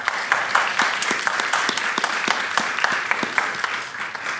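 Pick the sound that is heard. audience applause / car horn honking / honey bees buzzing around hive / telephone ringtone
audience applause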